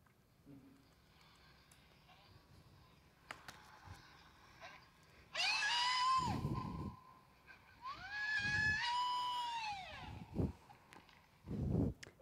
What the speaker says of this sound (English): It's called a sapucay. It's a type of thing that people scream while they are dancing.